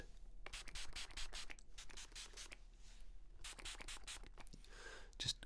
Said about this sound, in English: I'm going to spray your head.